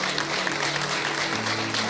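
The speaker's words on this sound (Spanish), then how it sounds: "Yo no sé si le da un aplauso al Señor por este acontecimiento" A church congregation claps during an evangelical sermon, a loud, dense burst of applause filling the whole short moment without pause.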